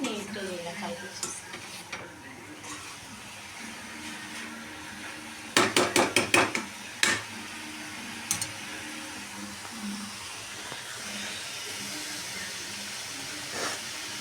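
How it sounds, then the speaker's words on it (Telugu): Biryani masala with mint and kasuri methi being stirred and fried in a pan, a soft steady sizzle with a quick burst of sharp spatula scrapes and knocks near the middle, no talking. "ఇది కొద్దిగా వేగనివ్వాలి."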